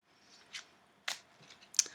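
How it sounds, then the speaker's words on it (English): Tarot cards being shuffled in a quiet room, giving three separate short riffling bursts, the last one the sharpest, with near-silence between them. "a little bit more shuffling"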